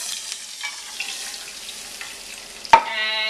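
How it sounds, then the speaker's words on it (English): Milk poured into a regular frying pan of hot butter, a soft steady sizzle and stirring hiss that ends in a sharp clink, followed by a brighter bubbling sizzle. "I have a regular frying pan that I've heated up about a teaspoon worth of butter. I'm adding a cup of milk"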